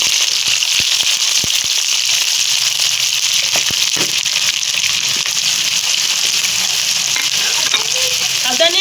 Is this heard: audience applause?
no